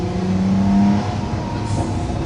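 A Lamborghini Sián's naturally aspirated engine paired with a hybrid system accelerates, a loud, close engine note with a rising tone that fades into a steadier rumble of road and wind noise.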